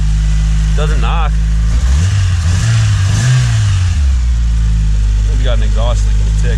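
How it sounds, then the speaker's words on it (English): Engine of a rare old 1980s Toyota running and revving, loud and close, with a possible exhaust-leak tick and no knock; the rev swells and falls in the middle while people talk briefly at the start and end. "Maybe got an exhaust leak in the tick, but it doesn't knock at all."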